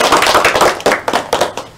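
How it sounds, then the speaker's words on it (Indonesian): A classroom group applauds student presenters during a microteaching geography lesson, a short, loud, close burst of clapping hands that fades after about two seconds. "Oke, beri tepuk tangan untuk kalian semua."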